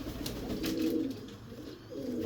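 Desi pigeons from a Faisalabad breeder coo in a low, steady murmur while being handled and shown close up, the soft throaty calls continuing through most of the moment with no talk over them.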